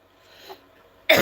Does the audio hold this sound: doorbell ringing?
no